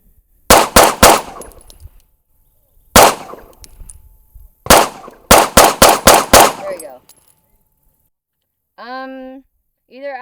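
Loud, close gunshots from a 2011-style pistol at a shooting range come in quick bursts of two to five with short pauses between, followed by a brief burst of speech.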